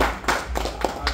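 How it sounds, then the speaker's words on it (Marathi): A few scattered hand claps from a small group at an ultra run gathering, honouring supporters, a brief irregular patter of four or five claps heard close by. "सपोर्ट केला त्यांच्यासाठी पण टाळ्या घाला."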